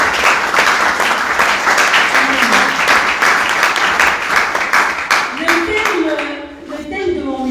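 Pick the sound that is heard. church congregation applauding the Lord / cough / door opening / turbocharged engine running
church congregation applauding the Lord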